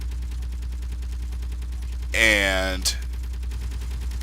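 Brief burst of gunfire from a C-Series Starship planetary frigate in a video game, a rapid rattling volley lasting under a second followed by a short sharp report, set over a steady low engine hum.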